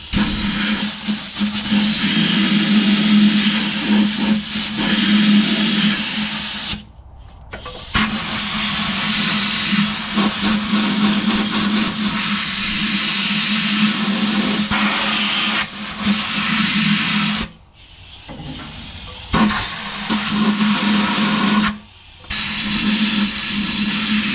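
Loud compressed air hisses in long continuous bursts as a truck brake slack adjuster is blown out during a fitness inspection repair, with a few short breaks between blasts and no talking.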